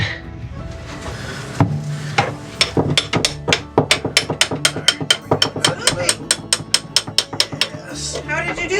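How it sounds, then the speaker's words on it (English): Rapid metal hammer blows on a boat rudder ring out, starting sparse and then speeding into a fast, steady series of sharp, loud strikes. "I just kept hitting it with a hammer."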